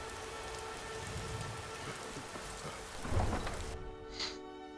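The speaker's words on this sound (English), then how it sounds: "I do not like the fact that it's raining because the rain is quite loud with my mods installed" Loud rain in Skyrim, modded, falls in a dense steady hiss on the way up to High Hrothgar, with a low rumble swelling briefly near the end as the sound thins out.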